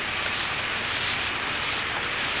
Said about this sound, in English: We gotta wait till the rain stops because it just doesn't make any sense to get all wet to go a few miles